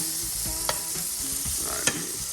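Blackened salmon turned over in a hot frying pan: a continuous close sizzle with a few scraping shifts and two sharp clinks of the utensil, no voices.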